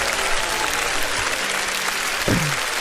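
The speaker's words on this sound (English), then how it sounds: "You get an applause." Studio audience applause for a guest's introduction on a talk show, a steady wash of clapping filling the whole moment at an even level, with a brief voice sound near the end.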